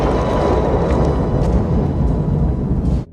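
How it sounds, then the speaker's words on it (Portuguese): Explosions from the 1990s action film Universal Soldier erupt as a loud, continuous, rumbling roar lasting about three seconds before cutting off abruptly. "Aliás, belas explosões."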